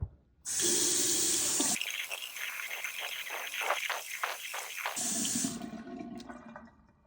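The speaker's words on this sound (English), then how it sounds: "So just give it a nice wash in cold water." A vacuum cleaner filter is washed under cold running tap water, the stream hissing loudly, then splashing and gurgling in uneven bursts as the filter is rinsed, before the tap runs freely again and trails off.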